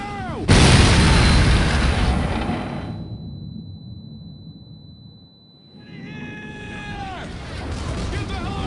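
Mortar fire in the Pacific combat game Medal of Honor Pacific Assault: a loud, sustained roar of explosions and battle noise that dips briefly, then surges back with whistling tones, with shouting voices mixed in.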